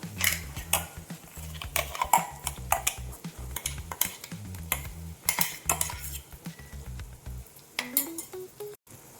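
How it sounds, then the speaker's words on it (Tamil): Masala paste for egg curry sautés in a pan while a metal spoon stirs and clatters against it in quick repeated strokes, with a soft sizzle underneath, near and clear. "இந்த பேஸ்ட்டையும் பச்சை ஸ்மெல் போகிற வர நல்லா இதோட மசாலாவோட சேர்த்து வதக்கி விட்டுக்குவோம்"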